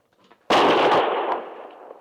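A single loud rifle shot from a Springfield in a western radio drama, a sudden blast with a long, rough decaying rumble afterward.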